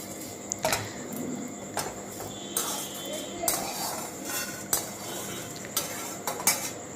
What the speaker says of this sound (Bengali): চিড়ে ভাজাটা কিন্তু বসিয়ে অনবরত নাড়তে থাকতে হবে